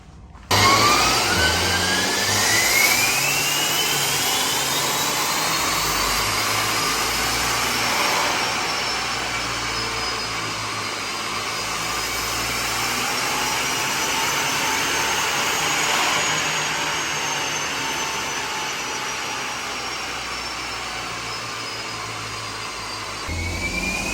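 Turbocharged Perodua Myvi engine with blow-off valve and boost controller running on a dyno, a loud sustained whining drone that rises and falls in pitch over about twenty seconds, with no talking.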